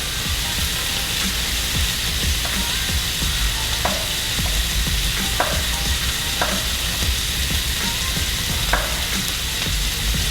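Pork chops fry loudly in a pan, giving a dense, even sizzle throughout, with occasional sharp ticks and pops that recur every second or so.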